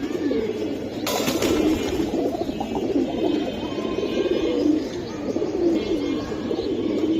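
Pigeons coo continuously at a busy pigeon market, a dense, low, rolling murmur of many birds close by, with a brief sharp clatter near the start.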